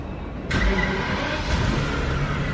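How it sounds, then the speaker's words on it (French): A Rolls-Royce engine starting on the start button catches with a sudden rise into a steady, smooth idle that holds close and fairly loud after a brief quiet moment. "pour démarrer la voiture, le pied sur le frein et le bouton start"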